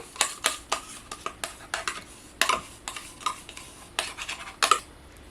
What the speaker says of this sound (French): On met le yaourt.